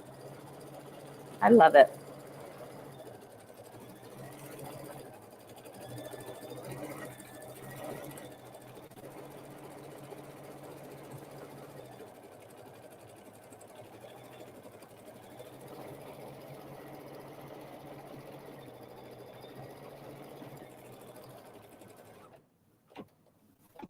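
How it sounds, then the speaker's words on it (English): A quilting sewing machine works a background quilting stitch-out as a steady, low, even hum that runs for the whole stretch, with one short loud knock near the start and a voice speaking briefly. "This is so fun to watch stitch out"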